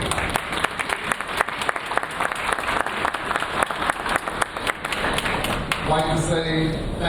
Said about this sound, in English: a round of applause for John Rubio.